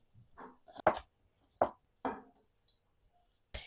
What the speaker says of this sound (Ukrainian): І цибулинку також наріжу кубиком.